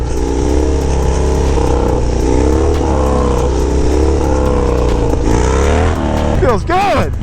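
A motorcycle engine revs loud and close during a street wheelie on a slick city street, holding a strong roar that climbs sharply in pitch near the end, with voices mixed in.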